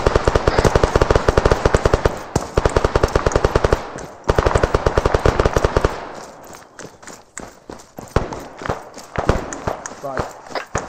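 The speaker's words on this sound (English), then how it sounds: "Alpha keeps suppressing. Bravo's flanking. Keep up the fire, Alpha." Sustained automatic gunfire in the ArmA 3 military shooter game: rapid, loud bursts of machine-gun fire for about six seconds, then scattered single shots and shorter bursts. Voices can be heard under the firing.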